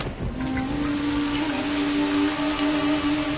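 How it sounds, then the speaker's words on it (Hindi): Steady rain in a Naruto Shippuden anime episode hisses down close by, with a low sustained hum running underneath throughout; no one speaks. "बारिश आ गई जैसा कि हमने सोचा था।"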